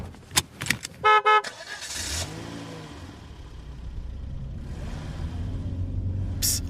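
A car drives along with a rumbling engine and road noise, cut through by several short, sharp horn honks near the start and another brief toot at the end.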